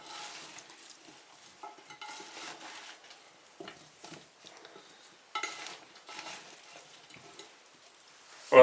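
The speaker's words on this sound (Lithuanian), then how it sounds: "Ir dabar viską labai gerai čia išmaišyti reikia." Ingredients for a pork rib and vegetable stew being stirred in a bowl or pan, with soft scraping, rustling and clinking in uneven bursts, fairly close but quiet, without talk.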